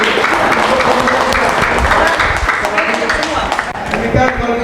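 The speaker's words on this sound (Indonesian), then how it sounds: "Tepuk tangan untuk ya." A crowd claps steadily at a pre-fight weigh-in event, sustained dense applause close by with voices mixed in throughout.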